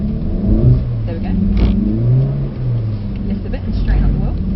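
A Mercedes-AMG car drifting on a track: the engine revs and surges through throttle changes, rising and falling in a deep growl, heard from inside the cabin beneath an instructor talking almost continuously.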